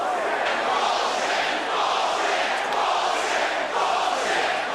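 Large boxing arena crowd at a championship prize fight reacting to a shock draw decision, a loud sustained roar and murmur of thousands of voices with swelling surges, close and continuous.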